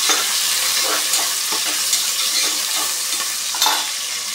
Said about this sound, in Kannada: ಈರುಳ್ಳಿ, ಹಾಕ್ಕೊಂಡು ಫ್ರೈ ಮಾಡ್ತಾ ಇದ್ದೀನಿ.